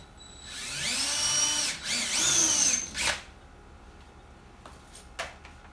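A power drill bores a 1/8 inch pilot hole for a storm door closer, two close, whining bursts rising and falling in pitch, then trailing off into faint clicks and quiet handling.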